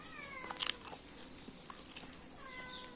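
A village cat being offered roti at breakfast chews and crunches close by, letting out a couple of short, high meows, with quiet household background and no clear talk.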